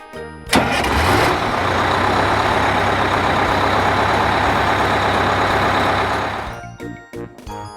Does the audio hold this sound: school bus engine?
yes